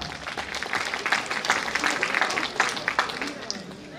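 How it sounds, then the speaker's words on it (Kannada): Applause from an audience at an alumni reunion and teacher-honouring ceremony, fairly distant and moderate in level, uneven clapping with some crowd chatter underneath. "ಚಪ್ಪಾಳೆ"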